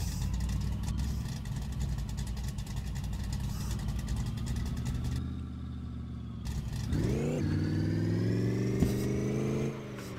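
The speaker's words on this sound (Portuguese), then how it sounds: "É bem cansado, né, esse motor V8." Worn, tired V8 engine of a damaged Chevrolet Opala running steadily at close range, a loud continuous rumble that briefly revs up and settles again, with no talk over it.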